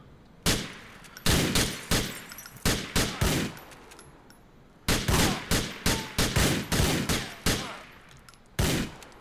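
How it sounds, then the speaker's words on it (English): Shotgun blasts from the video game Grand Theft Auto 4, fired in quick bursts: about a dozen loud, sharp booms come in two clusters separated by a short pause, each followed by a brief decaying tail, and no one talks over them. "this shotgun gun does so much damage"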